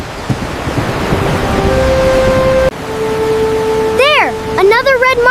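Water flows and rushes steadily outdoors with broad wind-like noise, loud and close, while people talk over it toward the end.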